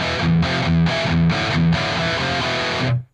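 A heavily distorted electric guitar through a REVV G20 tube amp's distortion channel plays chugging chords in a steady rhythm, then lets a final note ring briefly before stopping.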